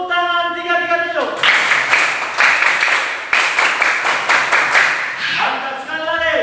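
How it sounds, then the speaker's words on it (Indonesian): Classroom applause in the 3-3-7 clapping rhythm, a sustained burst of many hands clapping together in groups, loud and close, bracketed by a voice speaking before and after. "Tepuk tangan 3-3-7."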